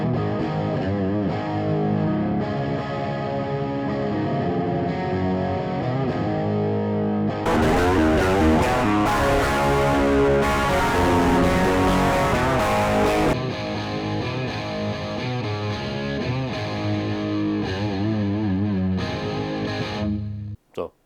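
Electric guitar through an amp at full power with the attenuator fully off gives a distorted, effects-laden tone with sustained chords and a brighter, denser burst in the middle before cutting off abruptly.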